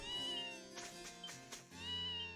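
A cat meows in the video game Ys SEVEN: a clear, drawn-out meow at the start, a few shorter mewing bursts in the middle, and another long meow to close.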